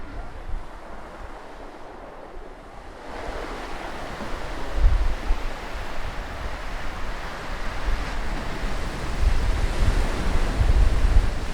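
Ocean waves at sea off Valparaíso, heard from a boat, surge and wash continuously, growing louder toward the end, with heavy wind buffeting the microphone throughout and no voices.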